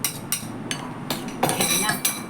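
Minced pork and potatoes being mixed for an omelette, with a utensil clinking and scraping against a bowl in irregular strokes, close and moderately loud, with no talking.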